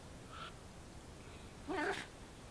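A cat gives one short, rising-and-falling meow near the end, after a brief faint chirp, in an otherwise quiet room with no talking.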